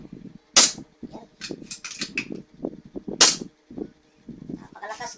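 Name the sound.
shot of foot-pump converted PCP air rifle with silencer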